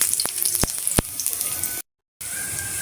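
Garlic frying in hot cooking oil in a home kitchen, a bright continuous sizzle with a few sharp clicks of a utensil near the start and a brief dropout partway through.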